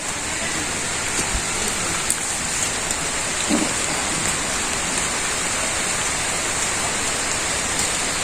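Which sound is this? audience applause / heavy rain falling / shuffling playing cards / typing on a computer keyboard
heavy rain falling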